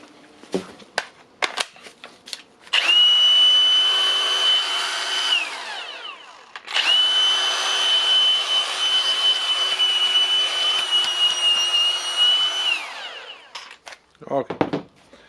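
Repaired Milwaukee angle grinder, with its broken gear housing replaced, runs in two long bursts: a loud steady motor whine spins up, holds for a few seconds, winds down, then runs again for longer before stopping, with light handling clicks around it.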